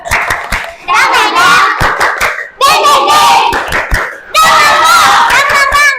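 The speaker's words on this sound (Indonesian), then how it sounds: "Oke, kita ulangi. Tepuk semangat." A classroom group of teachers or students claps a rhythmic spirit clap in three bursts, sharp hand claps close and loud, with young voices chanting along between the clapping.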